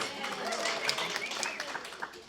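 An audience claps together at a Brooklyn Public Library family bombazo after a bomba song. The applause is a dense, steady patter of many hands lasting a couple of seconds, with a few louder claps standing out.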